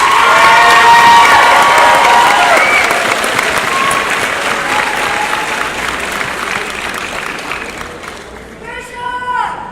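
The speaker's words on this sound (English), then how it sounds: "Graduates, let's show our faculty and staff some appreciation. Let's give them a round of applause also." A graduation ceremony audience applauds and cheers for faculty and staff, a loud, dense wash of clapping and shouts that slowly fades, with some voices calling out near the end.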